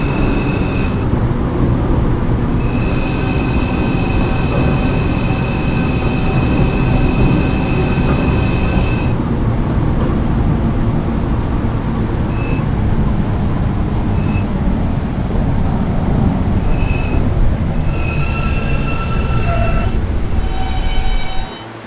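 Subway train running loud and close, a steady rumbling roar with sustained high wheel squeal and tones, no speech.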